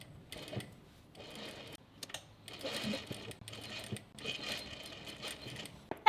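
An overlocker finishes raw fabric edges for a couch, a fairly faint rapid mechanical stitching whir running in several short bursts separated by brief pauses, close by and without speech.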